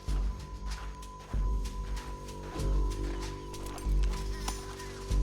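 Rhythmic hoofbeats of a galloping horse in Red Dead Redemption 2 run under a steady droning background, with loud thumps marking the pace.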